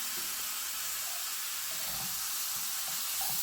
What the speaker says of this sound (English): Now I am adding tomatoes.